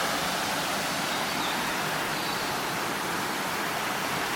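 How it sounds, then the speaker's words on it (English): Water pours over a weir in Malmesbury, Britain, a steady, loud, unbroken rushing roar that fills the whole stretch without pause. "That's a weir."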